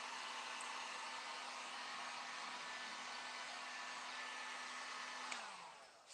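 A heat gun roars steadily and close while warming paint on a motorcycle tank for lowrider pattern work, then cuts off near the end, its hum winding down.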